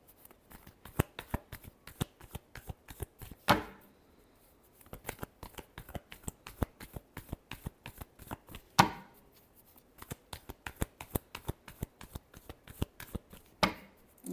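Tarot cards are riffled and shuffled in a steady, crisp patter for long stretches, broken by a few louder snaps as the deck is squared, close up with no talking.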